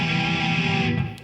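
An electric guitar rings out a sustained chord with lightly palm-muted picking, thick and steady for about a second before it is cut off and fades.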